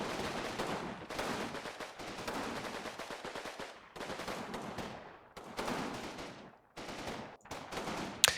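Sustained bursts of automatic gunfire raking a building in the Combat Mission WWII tactics game at Utah Beach, loud, dense rattling volleys broken by brief pauses.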